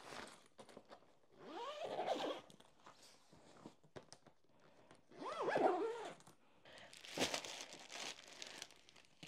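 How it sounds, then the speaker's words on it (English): A packed travel bag for an Iceland road trip is zipped shut with several long rasping zipper pulls mixed with crinkling and rustling fabric, close and moderately loud, with no talking. "Now we're ready to zip it up."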